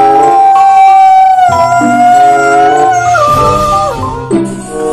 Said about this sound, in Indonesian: ternyata ada mainan hewan serigala nih teman-teman.